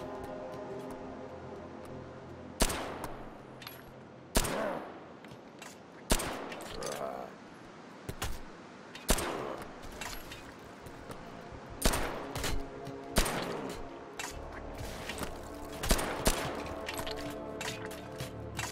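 Repeated bursts of video-game gunfire in a post-apocalyptic American setting, sharp loud shots spaced a second or two apart over a continuous background din, with no talking over the volleys.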